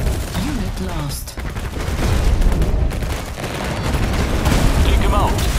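Dense gunfire bursts and booms in the real-time strategy game Tempest Rising, a steady loud fusillade over rumbling battle noise with clipped unit voice lines mixed in.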